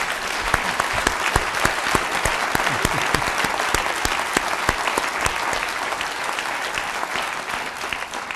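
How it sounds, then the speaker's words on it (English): An audience at a conference on ending neglected tropical diseases breaks into dense, steady applause that holds at an even level for the whole stretch, with no talking over it. "please a big round of applause and a wave to everyone who's watching us online"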